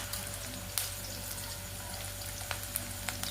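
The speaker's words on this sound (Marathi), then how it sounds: "एक बारीक केलेला कांदा आणि एक तुकडे टोमॅटोचे आता हे तळत आहे" Finely chopped onion and tomato pieces fry quietly in a pan, giving a steady soft sizzle with an occasional faint pop and a low hum underneath.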